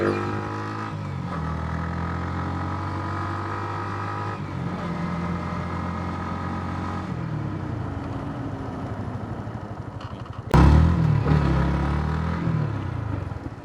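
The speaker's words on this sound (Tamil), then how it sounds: "அடுத்ததாக வந்து இந்த பைக் ஒருக்கா ஓடி காட்டுறோமே நாங்கள் எப்படி இருக்குண்டு" A motorcycle for sale is ridden nearby, its engine running steadily, then shifting tone with a few changes in revs before a sudden loud burst of acceleration near the end.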